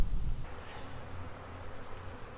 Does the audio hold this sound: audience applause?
no